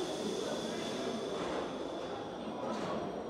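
An old carriage on the Pyongyang metro rumbles as it runs, a steady close roar of wheels and motors with a faint high squeal near the end.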